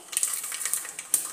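Peanuts and urad dal crackle and sizzle in hot oil in a pan, a bright crisp spatter with sharp pops throughout, close and alone without speech.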